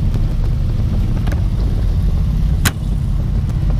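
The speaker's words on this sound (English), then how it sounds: "Traffic was the worst I've ever seen in my life." Steady road and traffic noise roars from aboard a moving Harley motorcycle, a loud continuous rumble with wind buffeting and a brief sharp knock partway through, and no talking.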